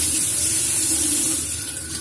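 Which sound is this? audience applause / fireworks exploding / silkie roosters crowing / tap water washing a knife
tap water washing a knife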